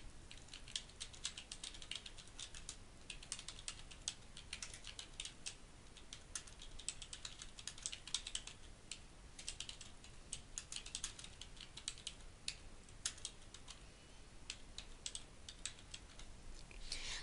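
Rapid typing on a computer keyboard while a resume is filled in: quiet, closely spaced clicks in uneven bursts with short pauses, continuing steadily and alone throughout.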